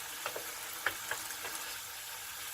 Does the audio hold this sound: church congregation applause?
no